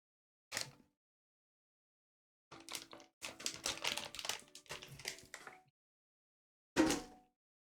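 A computer keyboard clicks in short bursts of rapid keystrokes while Animal Crossing is played with keyboard and mouse, close and quiet, separated by silent gaps.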